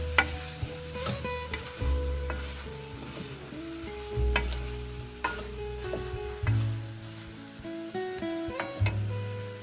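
A spoon stirs a cauliflower and potato curry with garam masala in a pan, scraping and clinking steadily over a continuous sizzle, close and fairly loud, with no talking.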